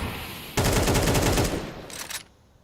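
Rapid automatic gunfire in a professional esports tactical shooter match, loud bursts of continuous shots for over a second followed by a shorter second burst, with no talk over it.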